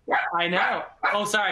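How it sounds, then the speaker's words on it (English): Dogs give two loud, close bursts of barking and yipping in quick succession while people talk over them. "You can probably hear my dogs barking."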